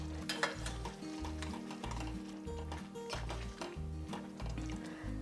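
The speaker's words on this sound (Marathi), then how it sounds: "आता आपण ही जी तळलेली आपली मेथी आहे ती याच्यात घालून घेणार आहोत." Fried fenugreek leaves are stirred into a dhaba-style garlic gravy in a pan, with soft sizzling and the scrape of a spoon against the pan under steady background music, faint and close.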